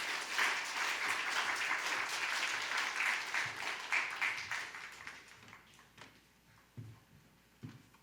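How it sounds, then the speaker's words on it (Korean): A church youth worship congregation gives dense, lively applause to welcome a guest speaker. The clapping tapers off after about five seconds, leaving a few scattered thumps and room noise. "앞으로 나오실 때 우리 박수로 함께"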